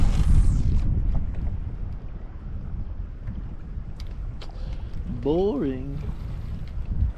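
Strong wind buffeting a fishing boat out on open water, a constant low rushing roar pressing on the microphone throughout, with a voice speaking briefly under it.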